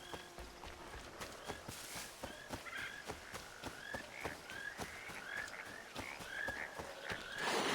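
Frogs croak in a forest area of the Frontier in the video game Assassin's Creed III, a run of repeated short croaks and clicks in a steady rhythm over a quiet ambient background, with no talking.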